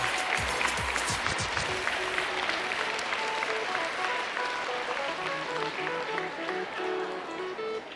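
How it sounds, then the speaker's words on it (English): Students at a VEX IQ robotics state championship applaud with dense, lively clapping from the start, easing slightly toward the end. "I want you to clap and thank all of them for getting you here today."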